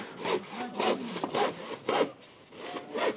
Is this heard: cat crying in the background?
no